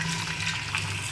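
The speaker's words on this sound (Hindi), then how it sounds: "थोड़ा सा पानी भी शामिल करना है" Water poured into a pan of frying garlic, ginger and tomato for a Punjabi bottle gourd curry: a steady, dense hissing splash and gurgle lasting the whole moment, loud and close with no talk.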